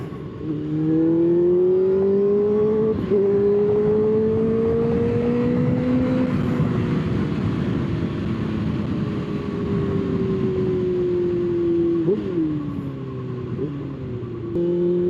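Kawasaki ZX-6R sport bike accelerating hard from the rider's seat, its engine note climbing steadily through a long pull with brief dips at shifts, loud and continuous over wind noise.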